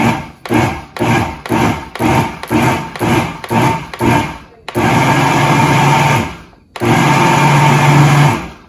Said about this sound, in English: Now we're gonna put it on high to blend.